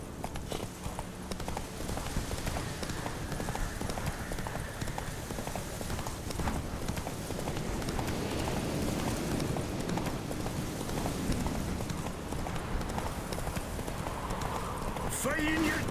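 Horse hooves clip-clop at a steady galloping rhythm in The Witcher video game, running continuously beneath game speech and background ambience.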